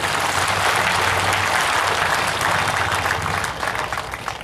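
Dense, sustained clapping from a large audience at a political rally in Chamba, steady throughout and easing slightly at the end.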